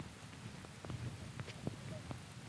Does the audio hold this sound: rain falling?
yes